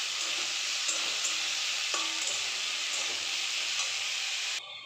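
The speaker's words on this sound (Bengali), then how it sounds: "এবার ভালো করে নাড়াচাড়া করে নেব।" Onions and bitter gourd fry in a pan for a Bengali chorchori, giving a steady loud sizzle with faint scraping knocks as the mixture is stirred.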